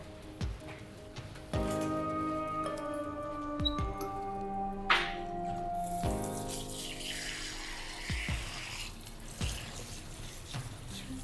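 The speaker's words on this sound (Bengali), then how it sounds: "হাত ধুয়ে নিলাম এখানে" Hands are washed under a running tap, a steady stream of water splashing into a sink, with faint tonal sounds lingering in the background.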